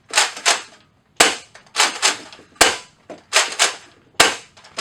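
A Nerf Rival Apollo blaster fires repeatedly, a series of sharp close snapping shots in uneven pairs with short pneumatic hisses trailing each, loud and alone with no talking.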